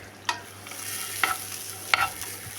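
A soft, steady sizzle from a pan as grated coconut and raisins roast, broken by three sharp scraping taps of a spoon stirring against the metal.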